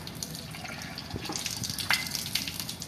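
A tap runs steadily as hands are washed for ablution (wudu), with a close, even gush of water and a few splashes and no speech.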